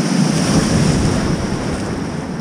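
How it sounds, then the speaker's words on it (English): Ocean surf rolls in as a loud, continuous wash of breaking waves, mixed with wind buffeting the microphone, close by on a beach. "Big waves."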